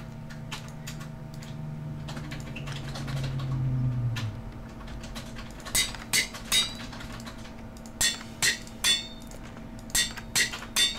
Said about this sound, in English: Except for the loud-ass hammering, because that's just not going to stop.